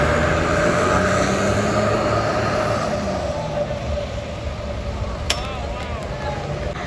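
Sumber Jaya Trans bus, hull number SC47, pulling away in a convoy of eight RJB Trans buses: a loud, continuous broadband rumble holds throughout and eases slightly near the end, where one sharp click stands out.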